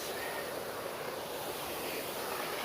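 Water pours steadily from a concrete spillway into a bayou, a continuous broadband rush heard close and fairly loud, with no voices.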